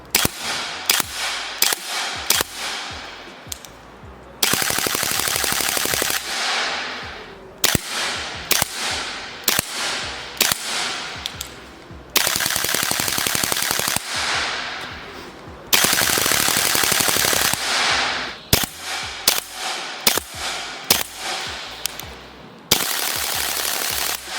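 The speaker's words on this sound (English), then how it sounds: "after shooting both bolt carrier groups" Airsoft gas blowback rifle fitted with a steel bolt carrier group firing in rapid bursts and strings of loud, sharp shots with mechanical clacks, broken by brief pauses, close and without talk.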